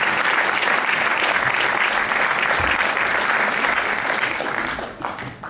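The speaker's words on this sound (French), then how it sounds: "Merci de les applaudir." Loud, dense applause from an audience at a film festival awards ceremony in Dinard, sustained evenly and then thinning out near the end.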